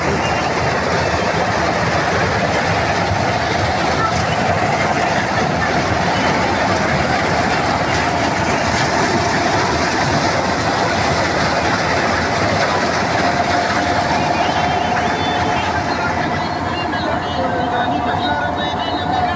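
A combine harvester cuts a paddy field, its heavy engine and clattering machinery making a loud, unbroken roar close by, with voices partly buried beneath it.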